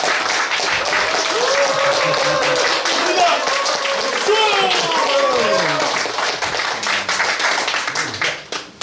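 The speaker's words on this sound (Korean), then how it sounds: "여러분 힘찬 박수로 축하드립니다." Audience applause at a traditional Korean folk music recital, steady dense clapping filling the whole stretch with a voice carrying over it, tapering off at the very end.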